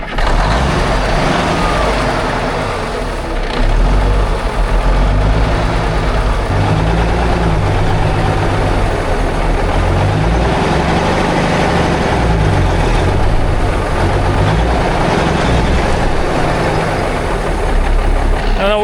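The engine of a 1978 Kenworth K100 cabover truck runs loud and close in a deep, rumbling idle that rises and falls as the throttle changes, continuous throughout with a voice now and then beneath it.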